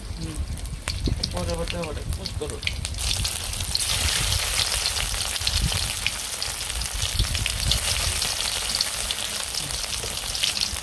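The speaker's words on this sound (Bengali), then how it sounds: "কড়াইতে দিলাম তেল। এখন এগুলো আমি ভেজে নেব।" Stuffed teasel gourds fry in hot oil in a wok, a dense, loud crackling sizzle that swells after a few seconds and carries on steadily, with a voice speaking briefly near the start.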